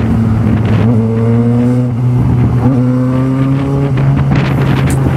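A Yamaha XJ6 motorcycle accelerates hard through city traffic, its engine note climbing in repeated steps as it shifts up, close and loud, with wind buffeting throughout.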